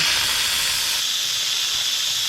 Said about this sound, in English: after the 10-minute high pressure cook, you can do a quick release